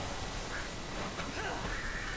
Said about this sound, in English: Right, so there's some more water over here with some more ducks.